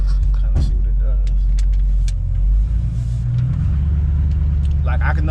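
A Raidenss car drives along with a loud, steady engine rumble that swells slightly as it gently accelerates, heard from inside the cabin under a continuous low drone with occasional small knocks.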